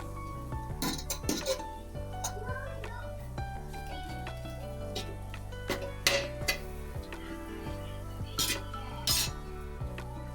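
Cooked rice being mixed with a ladle in a pan for hotel-style chicken fried rice, with metal clinks and scrapes scattered across the clip over a steady low hum, while a voice talks faintly in the background.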